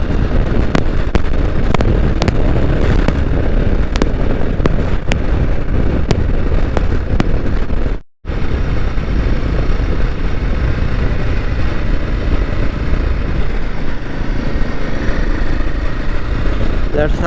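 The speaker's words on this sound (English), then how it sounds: "Yeah, I'm trying to rev but not getting enough." Royal Enfield Himalayan 452 motorcycle engine running while riding, a steady loud drone heavily mixed with wind buffeting on the microphone, with a brief dropout midway.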